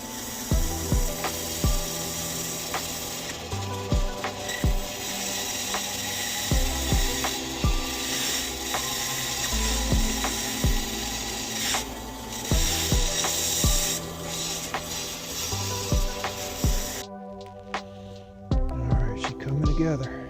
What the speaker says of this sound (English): put the foam underneath the saw